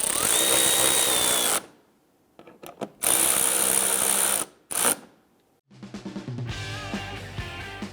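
Power drill snugging down screws through a front license plate bracket on a 2012-2017 Toyota Camry, loud close whirring bursts of a second or two each, separated by short pauses and a few clicks.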